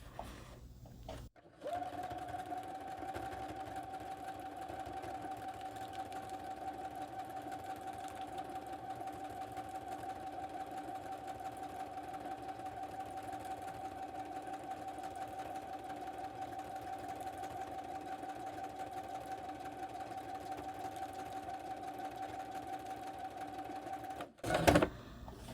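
A sewing machine runs steadily while stitching a design in tan thread, producing a continuous even mechanical hum and rapid needle clatter for over twenty seconds, with brief stops at start and end.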